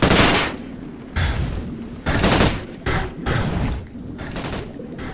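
Rapid bursts of gunfire in a shooter video game, several loud volleys separated by brief pauses, dense and continuous through most of the clip with no talking.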